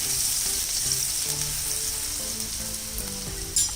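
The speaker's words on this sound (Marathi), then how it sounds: "जिरं चांगलं कडकडायला लागले यात घालायचे ठेचलेली लसूण, चांगली परतून घ्यायची" Crushed garlic sautéing with crackling cumin seeds in hot oil for a radish-leaf bhaji: a steady, bright sizzle that holds evenly throughout, with soft melodic background music underneath.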